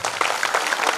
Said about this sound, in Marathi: या सगळ्या टाळ्या तुमच्यासाठी आहे महिला वर्ग